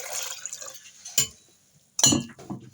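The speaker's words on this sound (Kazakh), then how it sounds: "суымызды құйып" Water is poured into a pot of softened blackcurrant pulp for a fruit drink: two short, close splashing bursts separated by quiet, with faint kitchen clatter and no voices.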